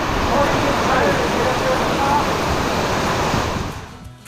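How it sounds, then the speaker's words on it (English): Heavy pouring rain over a fishing dock in Louisiana, a steady dense broadband roar that fills the clip and fades slightly near the end. "Lord, it's pouring down rain."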